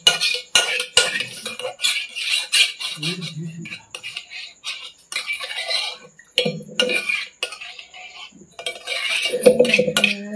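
A spoon clinks and scrapes around the inside of a bowl, smearing whisked sour curd over its walls while home-made yogurt is prepared in a kitchen; irregular, close knocks and scrapes come in bursts, with someone speaking in between.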